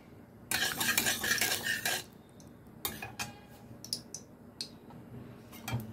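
A spoon scrapes and spreads hot ghee around the inside of a metal kadai: a dense run of close, clattering scrapes for over a second, a pause, then scattered sharp clinks and taps.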